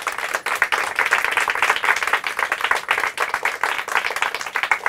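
Sustained applause from a school audience, dense clapping that holds steady throughout without pause.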